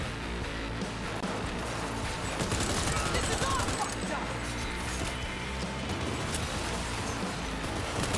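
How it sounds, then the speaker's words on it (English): Continuous gunfire from Cyberpunk 2077 coming through a wall, a dense, muffled barrage of shots and impacts that fills the whole stretch at steady loudness, with a voice talking over it. "They're shooting me through the wall!"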